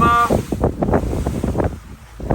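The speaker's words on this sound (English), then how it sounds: "We're catching a headwind coming directly out of the southeast" Wind and choppy lake waves slap around a small cruising boat on Kentucky Lake in a southeast headwind, a loud, steady rush with irregular splashing bursts close to the microphone.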